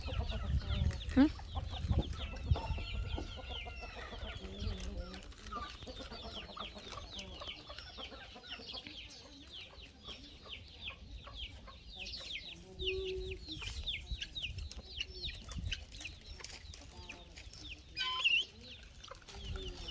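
Chickens cluck and chatter continuously around a Thai home yard, a dense, moderately close flock with scattered sharper calls and a low background rumble.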